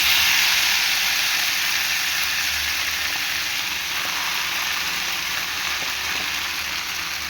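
Gourd leaves drop into hot oil already seasoned with black cumin and dried red chilli, and a loud, steady sizzle and hiss of frying fills the whole stretch, with no pause.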